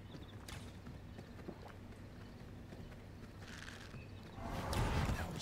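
Horse hooves clip-clop in the V Rising video game, a steady walking rhythm of soft, moderately close hoofbeats over a low ambient hum, with a louder rush of background noise swelling near the end.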